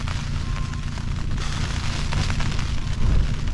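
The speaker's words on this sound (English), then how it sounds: "it's absolutely raining all night" Heavy rain drums steadily on a tent through the night on Blakey Ridge, a dense, continuous roar with a low rumble that swells slightly near the end; no voices.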